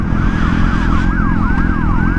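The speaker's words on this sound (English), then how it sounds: "there's an ambulance right there" An ambulance siren wails in a fast rising-and-falling pattern, loud and close, over heavy wind and engine rumble heard by a motorcycle rider wearing an AGV Pista replica helmet.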